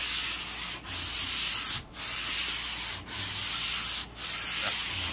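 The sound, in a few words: hand sanding oak wood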